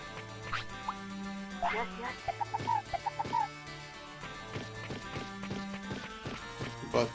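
A chicken in a video game clucks in a short run of quick, bright calls among footsteps and other game sounds, near and moderate, with a voice talking over parts.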